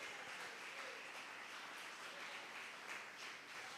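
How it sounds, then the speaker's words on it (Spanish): A church congregation claps together in steady, sustained applause, dense and continuous from start to finish, with no voices over it. "Alguien dele palmas al Señor en esta tarde."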